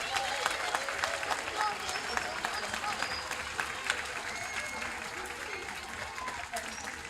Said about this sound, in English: I think that we all should give them a round of applause for the good work they do.